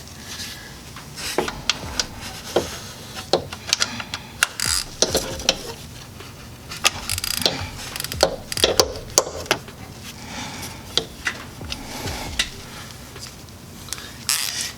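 Pittsburgh Pro ratchet from Harbor Freight driving a 10 mm socket on a small extension, working a thermostat on a Dodge Grand Caravan; a string of sharp, close clicks and ratcheting bursts repeats irregularly with brief pauses, with no talking.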